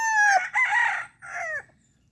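A big young stag rooster crows close by, two long strident calls separated by a short gap, loud and alone with no talk over it.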